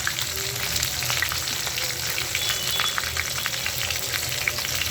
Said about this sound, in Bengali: মাছের মাথাগুলো লাল লাল করে ভাইজে নিচ্ছি